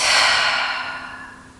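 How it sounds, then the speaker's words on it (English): One deep cleansing breath out during a yoga session, a close, airy exhale that starts strong and slowly tapers off. "Take a deep breath out."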